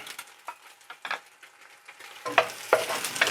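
Chopped garlic sizzles in a hot frying pan with stirring scrapes and clatter, the frying growing louder and busier toward the end.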